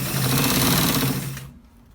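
A sewing machine stitching a collar on a shirt runs loud and close in a fast, steady whirring burst, then winds down and stops after about a second and a half.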